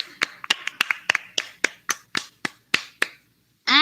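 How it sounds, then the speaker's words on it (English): A small group claps at a school math and science month culminating activity, a dozen or so distinct, fairly close claps in an uneven rhythm, then a brief pause. "A round of applause to her."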